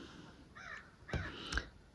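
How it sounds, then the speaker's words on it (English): Crows caw in the distance over open water at Georgian Bay, a few faint hoarse calls followed by two louder, sharper caws in quick succession against a quiet backdrop. "Here, crows."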